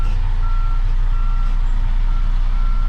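A truck backs its trailer into a loading dock, and its reversing alarm sounds a steady string of high electronic beeps over a constant low engine rumble, with no talk.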